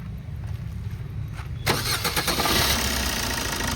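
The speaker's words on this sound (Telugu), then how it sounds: "ఇంజన్ ఒక్కసారి స్టార్ట్ చేస్తే చూడండి సార్ ఎట్లుంది పొజిషన్ అనేది" A 2014 Maruti Suzuki Swift Dzire VDI diesel car is quiet at first, then its engine cranks and catches about halfway through and settles into a steady, close diesel idle.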